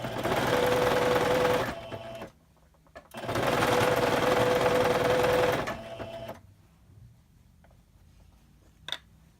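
A sewing machine stitches a puff quilt in two bursts of fast, rattling mechanical whirring, each a couple of seconds long, separated by brief pauses and followed by quiet handling noises and a single sharp click.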